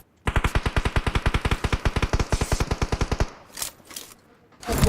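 Rapid automatic gunfire from a video game shootout in a 3v2 match, a steady burst of about thirty shots lasting three seconds, loud and close, then cut off abruptly and followed by fainter scattered noises.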